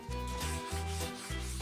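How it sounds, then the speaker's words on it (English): Sandpaper rubbed by hand across a wooden Boos Block chopping board, a rhythmic back-and-forth scratching in repeated strokes, close and fairly soft, with no voices. "Now, I don't have any proper sanding tools, so I'm just doing this by hand"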